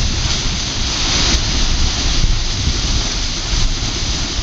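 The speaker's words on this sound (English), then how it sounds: "That's the whirlpool sucking down the water." A whirlpool at Demopolis Lock pulls water down with a loud, rushing roar, a constant thunderous wash of noise filling the whole stretch without talk.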